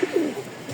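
A pigeon from a pair of breeding flying pigeons gives a short, low coo lasting under a second, close by.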